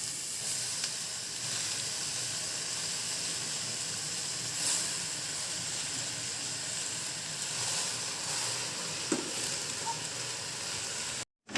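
Pulicha keerai (sorrel leaves) sautéing in a hot pan, giving a steady, dense sizzle and hiss that runs unbroken throughout with a few faint clicks, no voices.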